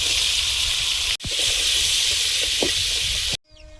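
Potatoes frying in oil in a wok with black cumin seeds, a continuous close hissing sizzle with a couple of soft knocks, cutting off abruptly near the end.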